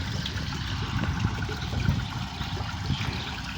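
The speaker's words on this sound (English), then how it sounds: "and this is the automatic water system." Water from an automatic system runs steadily into a cattle drinking tank on a farm, a continuous close trickling and splashing with low rumble and no talk.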